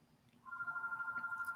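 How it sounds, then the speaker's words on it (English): A household telephone starts ringing partway through, a faint electronic warble that pulses quickly and evenly in a quiet room, with no voices. "there's the phone ringing again"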